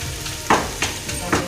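Vadagam tempering crackling in hot oil for a village-style fish curry, loud steady sizzle with three bursts of spatula stirring about a third of a second apart.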